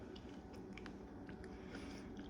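Meat chewed right at the mouth, a faint, close run of wet biting and mastication sounds over a steady low background, with no speech.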